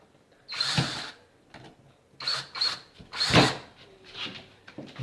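Screws driven into a wooden soap mold with a power drill, heard as several short whirring bursts separated by pauses, close and moderately loud.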